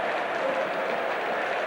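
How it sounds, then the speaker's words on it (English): A stadium crowd at a 1992-93 Serie A match between Juventus and Fiorentina applauds for Ravanelli, a steady, broad wash of distant clapping with no speech over it. "Getting a good reception too from the crowd"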